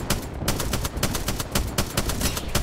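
Sustained automatic gunfire in the battle game Apex Legends, a loud close rapid rattle of evenly spaced shots running the whole time with barely a pause.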